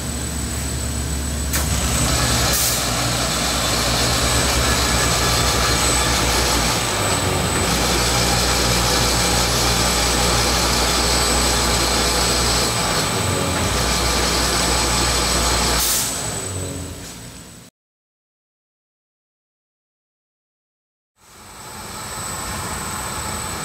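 A low pressure polyurethane mixing machine running all three components with a high density filler hums and whines loudly and steadily with a mechanical rattle, then cuts to silence for a few seconds before starting up again.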